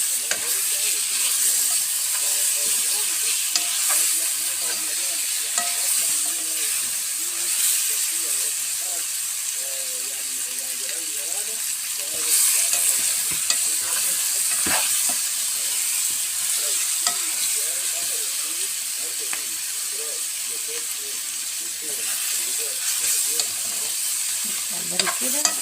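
Meat with cardamom pods stirred and fried in a pot, a steady sizzling hiss with intermittent scraping stir sounds running throughout, fairly close and continuous.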